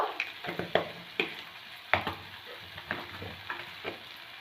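Ground turmeric, cumin and coriander fry in a pan for an aloo paratha filling. A soft sizzle runs under a few irregular stirring taps and scrapes, close up and quiet, with no voices.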